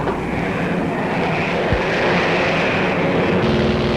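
Heavy bomber aircraft engines drone steadily in flight during a 1941 air battle over Europe, a dense, loud, continuous roar with low harmonic hum throughout and no voices.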